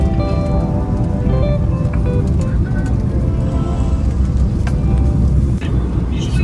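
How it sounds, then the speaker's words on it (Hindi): Rain falls on a car travelling the roads near Jabalpur on a family road trip, a steady dense patter over continuous road rumble, with no pauses. "अभी बारिश होने लगी है जबलपुर इनफैक्ट"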